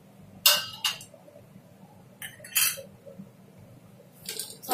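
A spoon clinks and scrapes against a pan while fried almonds, cashews and pistachios are mixed into sweet saffron vermicelli. The sharp metallic taps come in short clusters with quiet gaps between them, close and fairly loud, with no talking.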